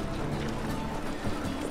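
Close, steady clip-clop of horse hooves in the fantasy video game The Witcher 3, a fast even rhythm running throughout over dense game ambience.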